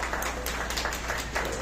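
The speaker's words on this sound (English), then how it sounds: "A round of applause," An audience at a send-off event for the Philippine women's futsal team applauds, a continuous, fairly loud patter of many hands clapping with no voices on top.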